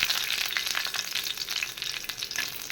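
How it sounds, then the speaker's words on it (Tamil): Crushed garlic cloves, skins still on, fry in hot oil for a spicy egg roast, giving a dense, continuous crackling sizzle throughout with no talking. "கொஞ்சம் பூண்டு இருக்கு பார்த்தீங்களா, அதை தொலியோடு தட்டி நல்லா ஒரு வதக்கி விடுங்க"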